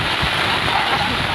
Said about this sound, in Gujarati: આ વરસાદ રહેતો નથી.